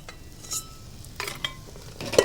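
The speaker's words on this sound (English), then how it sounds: "The mashed potatoes are ready, so what I'm going to do is I'll put it in my bowl." Mashed potatoes scooped from a pot into a bowl, with a few soft scraping and clinking touches of utensil on cookware, close and fairly quiet, with no talking.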